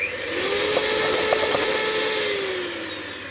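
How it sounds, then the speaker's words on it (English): An electric whisk beats frothy eggs with added sugar for amaretti biscuits: a steady, close motor whine that swells in and holds for a few seconds with a faint rattle, no talking. "Now that my eggs are frothy, I'm going to add some of the sugar, and I'm going to whisk again."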